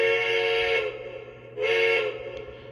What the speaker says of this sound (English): Here comes whistle.